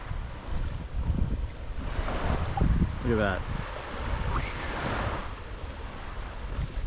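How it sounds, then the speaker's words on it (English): Wake waves from a big boat rolling across the bay past an anchored boat, a steady wash of water and wind noise with a swell building midway while someone talks over it. "I missed those waves. Here comes one from a big boat."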